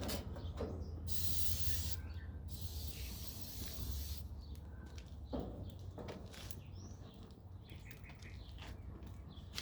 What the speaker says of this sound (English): We'll spray a little more Pam in there